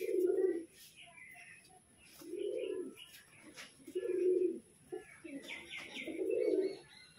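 Caged pet pigeons, a pair of green and white-green birds, give repeated low, throaty coos in regular bursts with soft chirps between, close and clear, no talking.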